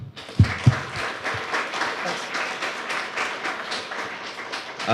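A lecture audience applauds the speaker, a few sharp early claps swelling into sustained, even clapping that carries on throughout.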